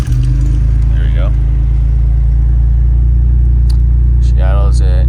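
A Toyota 3VZ-FE V6 idles on a cold start, a loud, steady low rumble right at the mic, with brief speech and faint clinks heard over it.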